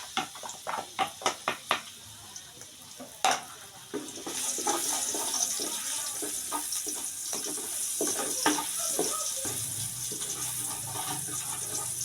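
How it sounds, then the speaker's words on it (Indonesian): Sliced shallots hit hot oil in a large wok for dodol, opening with several sharp clinks and taps before a loud, steady frying sizzle takes over and keeps going close by, no voices. "Kita siap goreng bawang yang udah kita irisin."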